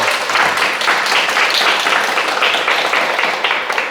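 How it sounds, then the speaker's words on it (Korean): Audience at a Buddhist Q&A dharma talk giving a big round of applause, a continuous dense wash of clapping that holds steady for several seconds. "그분을 위해서 너무 행복하게 동료들을 잘 지내게 큰 박수 부탁드립니다."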